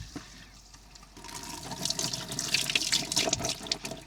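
Cured cucumbers rinsed under a running tap, a steady close splash of water with scattered bright droplet hits beginning after a quiet second, no voices.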